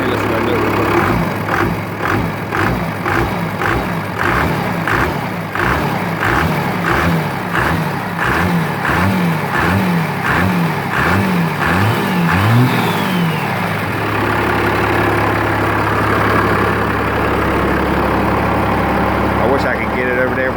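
A 12-valve engine on a cold start revs repeatedly toward 4000 RPM, a loud close rhythmic clatter rising and falling in pitch, then settling back to a steady idle.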